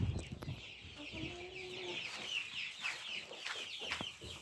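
Hens cluck softly inside a henhouse, with scattered low clucks and calls over a steady, faint background hiss. The birds sound fairly distant and there is no talking.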